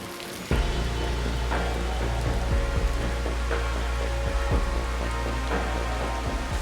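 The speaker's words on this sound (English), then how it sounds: "In tropical Singapore, it usually rains every few days." Heavy tropical rain pours down in Singapore, a dense, steady hiss of drops hitting surfaces, loud and close, with scattered heavier drips and no voices.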